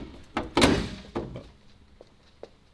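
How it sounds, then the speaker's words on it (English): A Dodge Demon 170 hood drops shut and latches with a loud thunk, followed by a second fainter knock and a few small clicks as it settles. "And the hood latch works."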